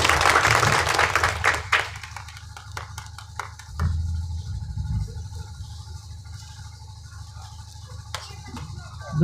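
Audience applause welcoming the chief guest at a village gathering, a dense burst of clapping that fades within two seconds, followed by scattered claps and faint background noise, with a brief swell near the end.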